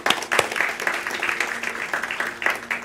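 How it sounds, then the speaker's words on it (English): A church congregation claps in a round of applause, a moderately near patter of many hands with uneven bursts, while faint voices mix in underneath. "I just want to give a round of applause for the cleaning ministry"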